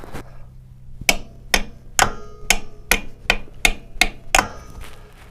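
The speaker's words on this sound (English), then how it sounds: "Give it a quick shock treatment with the hammer." Hammer blows on a stuck oil filter during an oil change on a Royal Alloy scooter: about nine sharp, ringing metallic strikes, close and loud, spaced roughly half a second apart with a brief pause after the first.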